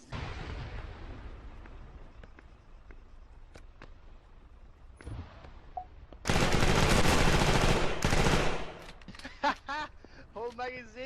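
Automatic rifle fire in Arma 3 empties a whole magazine in one loud sustained burst lasting a couple of seconds, after scattered distant shots and before a voice speaks.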